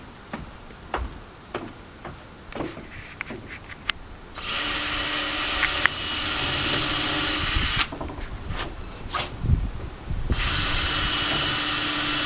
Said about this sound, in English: then I pre-drill so that when I screw in the screw, it doesn't split the wood, because this is dry wood